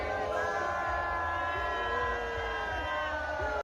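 A Mardi Gras crowd roars and whoops as a Cybertruck passes, a loud, sustained wall of cheering with shrill whistles and voices throughout, cutting off abruptly at the end.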